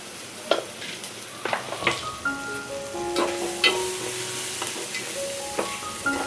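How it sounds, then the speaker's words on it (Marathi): Spice masala of red chilli powder, turmeric and garam masala frying for dry prawn sukha, with a steady sizzle and intermittent scraping stirs and utensil clinks against the pan. "छान मसाला फ्राय करून घ्यायचा."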